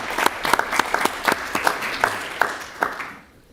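An audience applauds with many hands clapping together, fairly close, holding steady for a few seconds before fading away at the end.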